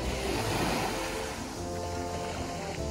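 Ocean surf washes onto a summer beach in a dense, steady roar of breaking waves and rushing water, close and loud with some wind noise, and no voices.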